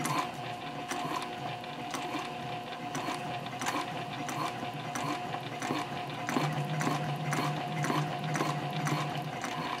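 A sewing machine stitches slowly around a curve while a bowler bag is being sewn, giving a steady, rhythmic run of close mechanical clicks and ticks with no talking.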